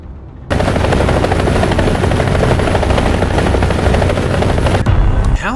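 Modern helicopters flying in the video game War Thunder, a loud, steady rotor thrum and turbine whine that cuts in abruptly after a brief quiet start and holds throughout.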